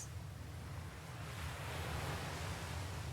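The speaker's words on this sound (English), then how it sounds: "It's just the sound of waves." Ocean waves ambience from the Nancy Drew game Creature of Kapu Cave, a steady, soft wash of surf that swells slightly, heard alone without music or voices.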